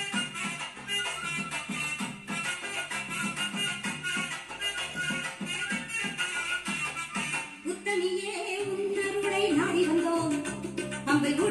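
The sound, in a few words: song played from USB through Ahuja SSB 120-DP amplifier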